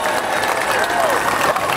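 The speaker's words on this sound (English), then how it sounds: "give yourselves an applause." A large crowd at a USC women's basketball championship celebration applauds in a loud, continuous wash of clapping with some cheering mixed in.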